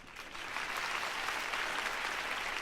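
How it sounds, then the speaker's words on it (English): Crowd applause inside a Batman video game, a steady wash of clapping from a gathered audience at a mansion event in Gotham, even and sustained with no voices over it. "get this guy a clap"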